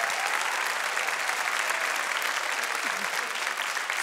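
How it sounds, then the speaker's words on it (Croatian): Studio audience at a masked singing show applauds the costumed masks, a dense, steady wash of clapping that carries evenly for a few seconds. "Dajte malo pljeska, čuju vas oni u svojim tajnim sobama."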